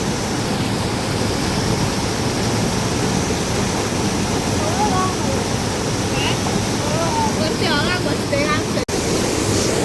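Fast, heavy river water rushes past a flooded village in the rainy season, a loud continuous broadband roar that persists throughout, with faint voices and brief higher-pitched sounds near the end.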